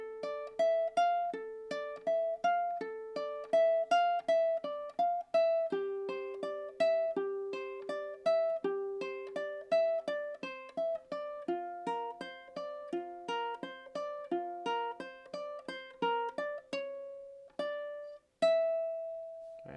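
Ukulele duet playing the first run-through of a song, bright plucked notes in a fast, steady melodic line over lower chord tones, close and clear with no talking, ending on a held note.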